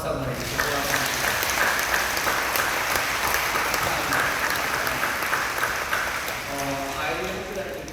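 A church congregation at a Friday night service applauds to welcome middle and high school students, a sustained, roomy wave of clapping lasting several seconds, with voices mixing in.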